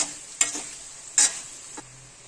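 Spiced potatoes with red chilli powder and salt are stirred in a pan: a few quick, sharp scraping strokes against the metal over a faint sizzle, close and distinct with short pauses between.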